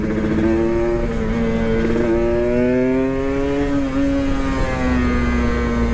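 A bored-up Kawasaki Ninja RR two-stroke motorcycle with an Uma Racing kit revs loudly and steadily, its buzzing engine pitch climbing gradually, dipping briefly and rising again, close to the listener.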